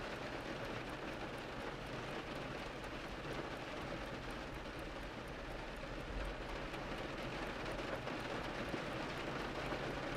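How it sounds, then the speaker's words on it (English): Steady rain rushing down outside, a dense even hiss with no gaps that holds at one level throughout, no voices. "the rain is rushing down outside"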